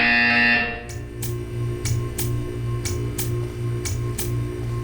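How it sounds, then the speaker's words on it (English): A Portal 2 test-chamber buzzer sounds in repeated short, evenly spaced pulses over a steady low electronic hum, loud and alone with no voices. "You will hear a buzzer."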